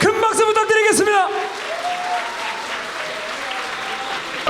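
An audience at a fighting event applauds the winning fighter, a broad wash of clapping that rises after an announcer's voice and continues steadily to the end.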